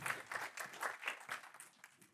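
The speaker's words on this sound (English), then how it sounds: "thank you for applauding" Audience applause at a board game industry conference presentation, a steady wash of many hands clapping at moderate volume for about two seconds, fading slightly toward the end.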